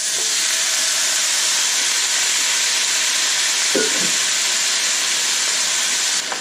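Sugar snap peas dropped into a hot pan with garlic for a stir-fry, giving a loud, steady, continuous sizzle and hiss that barely changes, with one brief clatter partway through.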